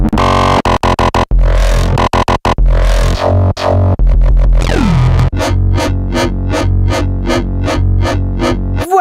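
Gritty FM synth sounds chopped up and triggered on a sampler in a dubstep style: rapid stuttering hits and bursts give way to a wobbling sweep, then a steady train of repeated pulsing notes, loud and close.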